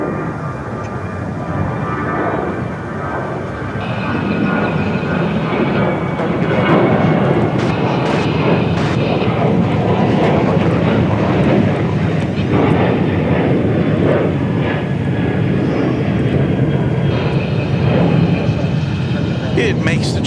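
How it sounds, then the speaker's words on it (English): A Boeing 747 touches down at Dallas/Fort Worth airport, a broad steady engine roar that holds fairly loud throughout, with a voice talking over it. "there is our very impressionistic look at a Queen of the Skies touching down here at the world's second busiest airport"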